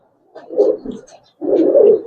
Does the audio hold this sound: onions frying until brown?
no